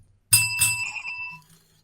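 A bicycle bell rings twice in quick succession, bright metallic dings with a ringing tail that fades over about a second, loud and close against silence.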